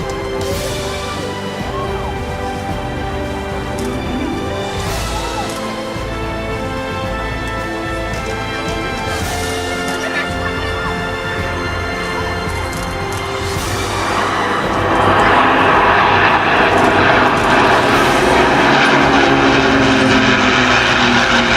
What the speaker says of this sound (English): 6 Rolls-Royce Merlins. The Battle of Britain Memorial Flight.